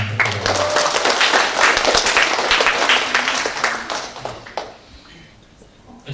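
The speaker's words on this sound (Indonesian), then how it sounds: "Tepuk tangan untuk beliau." Audience at a graduation ceremony breaks into loud, continuous clapping that holds for several seconds, then tapers off into a quieter room with some voices.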